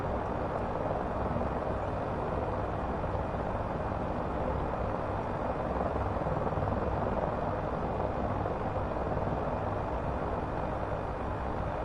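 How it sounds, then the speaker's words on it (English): A Hiller UH-12B helicopter's engine and rotor in Microsoft Flight Simulator 2024 make a steady, dense, loud drone that holds constant throughout with no talking. "Maybe this helicopter isn't good for this."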